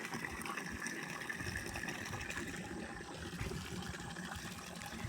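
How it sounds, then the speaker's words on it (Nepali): Water rushes steadily into a tank, making a continuous, even, low gushing noise that stays fairly quiet throughout, with no talking. "त्यहाँ पानी भरिँदैछ"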